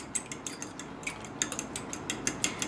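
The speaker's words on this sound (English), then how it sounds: "I'm going to whisk this quite good." Two eggs being whisked in a bowl, a quick steady series of light metallic clicks and scrapes at close range with no voices.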